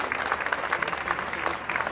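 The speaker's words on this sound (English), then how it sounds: "I would want you to clap for yourselves for being the pillars of support for the school." A crowd of parents applauds at a school annual day event at Indraprastha International School, Dwarka, in 2022. The clapping is steady and dense, holding at a fairly even level for about two seconds without pause.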